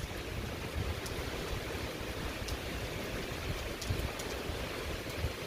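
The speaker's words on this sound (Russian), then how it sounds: "Очень сильный ливень начался." A dense, steady roar of a heavy tropical rain downpour by the ocean pours down without letup, a continuous hiss filling the whole clip with no voices.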